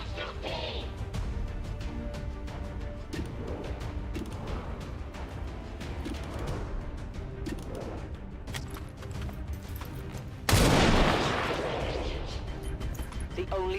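Gunfire and heavy impacts in the strategy game XCOM 2, with repeated sharp shots and thuds over a busy background, then a sudden loud explosive blast near the end; voices may be heard at times.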